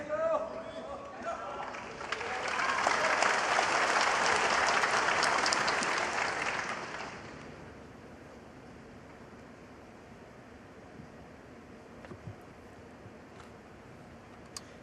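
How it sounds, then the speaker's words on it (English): Snooker crowd at the Shanghai Masters breaks into applause, rising quickly into a loud, full round of clapping that holds a few seconds then fades into a quiet arena, with a few faint clicks afterward. "You can hear the crowd, can't you, willing Ding on every time he comes to the table"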